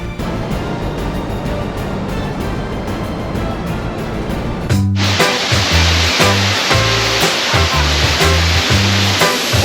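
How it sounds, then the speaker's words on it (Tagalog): Waterfall at Balagbag Falls in Real Quezon, where water drops about 25 meters into a shallow pool, gives a steady, loud, close rushing roar; about halfway through, a regular low thumping beat joins the roar. "Balagbag Falls, Real Quezon."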